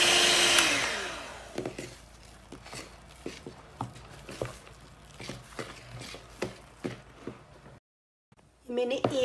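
An electric beater whips cream with powdered sugar in a brief loud whirring burst at the start, followed by scattered clicks and taps of the bowl and beaters, then a short silence before the motor noise resumes.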